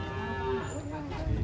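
A jumbo cow being loaded onto a truck moos loudly and close, one long, low, drawn-out call over rumbling background noise.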